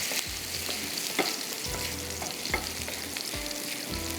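Ginger sizzles and crackles steadily in hot oil over a low flame for a tarka, a continuous close frying hiss with small pops and scrapes of stirring.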